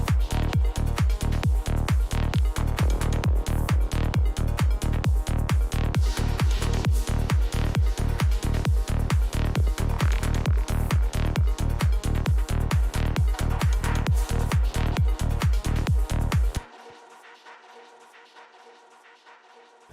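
A music-production loop of an unmixed song idea plays steadily: a punchy, evenly spaced kick-driven beat with layered tonal parts repeats loudly for about sixteen seconds, then cuts to a faint, quiet tail.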